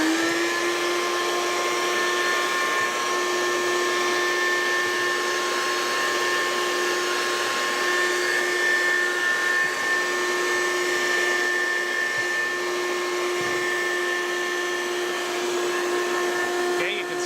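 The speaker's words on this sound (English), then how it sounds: "The motor from the vacuum is kind of loud" A loud, steady motor whine from a vacuum seeder sowing pelletized seed runs continuously throughout with a constant pitch, like a vacuum pump droning up close.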